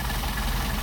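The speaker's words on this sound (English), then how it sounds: "So we're going to screw it down and you'll be able to hear the engine bogging." Mercedes 190SL engine with Solex carburetors idling, a steady low rumble with even vibration throughout the short stretch, close and continuous.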